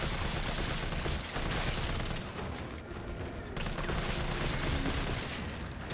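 Gunfire in the Resident Evil 3 remake, a dense sustained burst of rapid shots filling the whole stretch with a brief dip midway, loud and continuous with no talk.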